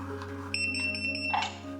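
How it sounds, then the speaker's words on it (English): Electronic beeps from a HESTIA 7-inch smart home security control panel being held into programming mode, a steady high tone with pulsing repeats over a constant low hum, close and moderately loud. "you want to hold it for 4 beeps and all the lights will flash"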